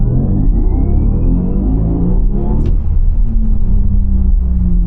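Porsche Macan GTS electric accelerating hard in Sport Plus mode: a loud, steady synthetic drive hum and low rumble with a slowly rising whine, heard from inside the car for the whole stretch.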